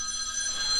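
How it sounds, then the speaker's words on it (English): A telephone rings in an engine-teardown workshop where a Windsor V8 is being taken apart, a brief bright electronic ring heard alone with no talk. "Phone call."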